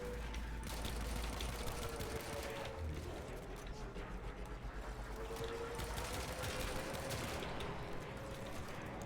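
Gunfire in Warframe, a continuous rapid mechanical rattle of automatic shots held at moderate loudness, steady throughout with a low hum beneath and no clear talk.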